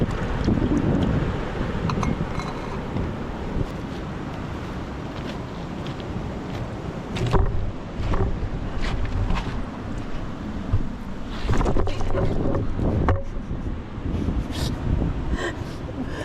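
Sea waves wash onto the shore of a cove at Dibut Beach in San Luis, Aurora. The surf makes a steady, close roar, and gusts of wind buffet the microphone throughout.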